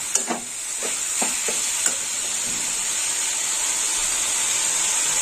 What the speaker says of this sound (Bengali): দিয়ে দিলাম নারকেল কোড়া। একটু নেড়ে চেড়ে নেবো।